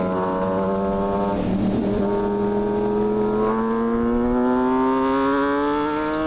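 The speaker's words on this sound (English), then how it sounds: "you're downshifting all the way down to 2nd" A Kawasaki ZX-6R engine roars at close range on a downhill stretch of a race track. Its steady harmonic tone sweeps through rising and falling pitch steps as it shifts down through the gears.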